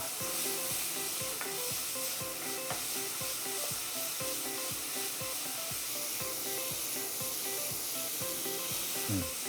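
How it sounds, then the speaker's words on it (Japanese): Doubanjiang and chili being stir-fried in a hot pan for spicy dandan noodles: a steady, loud sizzle with a rhythmic series of scraping stirs, close up and without talk. "豆板醤 から唐辛子 そして合わせていきます"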